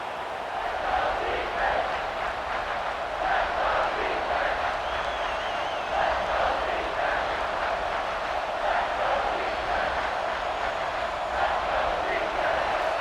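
A stadium crowd in the video game EA Sports College Football 26 roars steadily through a New Mexico State at Wisconsin matchup, a broad sustained wash of cheering with surges, heard behind a play-by-play commentator.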